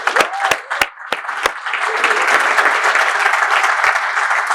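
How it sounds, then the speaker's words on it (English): Audience applause at a Build Black Better access-to-finance event, starting with a few sharp separate claps that swell into steady, dense clapping from a large crowd, loud and close, with no talk over it. "Can you give yourself a round of applause?"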